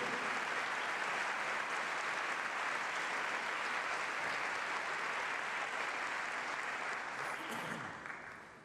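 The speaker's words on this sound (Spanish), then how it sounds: "Denle un aplauso a la integridad de Dios" A church congregation applauds, a dense sustained wash of clapping that holds steady for several seconds before tapering off, with faint voices mixed in.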